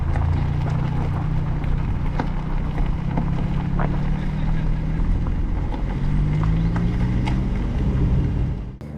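A 2013 Suzuki Swift Sport with an aftermarket exhaust burbles on the move along back roads, a continuous low engine and exhaust rumble with rising and falling pitch under road noise.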